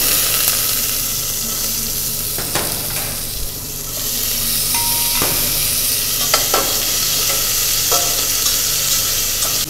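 Vegetables sauté in the same pan used to brown lamb for Irish lamb stew, giving a steady, close sizzle with scraping stir strokes and occasional clinks throughout.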